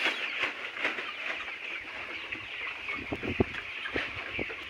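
Layer pullet chickens clucking in a farm house, with soft, scattered clucks and short calls from several birds over a steady background hum, with no talking.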